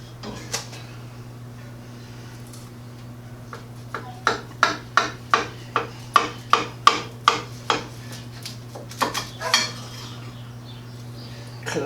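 A knife cuts through a quiche and taps against the dish in a run of about a dozen crisp, evenly spaced clicks and scrapes, close and fairly loud over a steady low hum.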